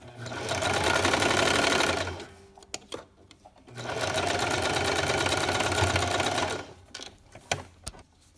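A sewing machine stitches the collar of a baby sleeper in two steady bursts of rapid whirring, about two seconds and three seconds long, separated by a pause with soft clicks and handling.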